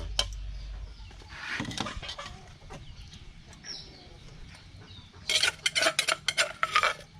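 Ingredients for a Thai Isan bamboo shoot curry are pounded in a mortar, with a quick run of sharp, close knocks and clatters near the end after quieter kitchen handling.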